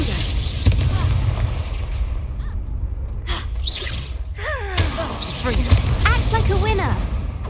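Confringo blasting curses explode during a Hogwarts Legacy duel as booming bursts and whooshes, set among spell sound effects and heard under an excited voice shouting through most of the clip.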